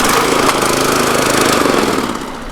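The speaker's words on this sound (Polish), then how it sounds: "Klasyczny sznur, linkę rozruchową pociągniemy i sprzęt pracuje." A Wolf Garten Scooter SV4 riding lawn mower's engine is started by pull cord and then runs with a loud, steady rattling drone that eases slightly near the end.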